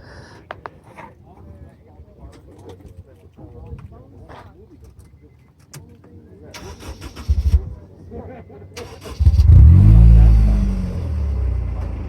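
A show car at an outdoor car show in Mesa, Arizona cranks and fires up near the end, settling into a loud, steady idle rumble after quiet moments of background chatter and voices.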